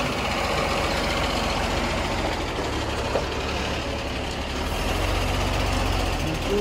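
A decorated cargo truck in Nepal runs its engine with a steady, low rumble, joined by dense street traffic noise. The truck stays loud and close throughout, with no talking.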